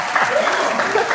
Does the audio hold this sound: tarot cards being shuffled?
no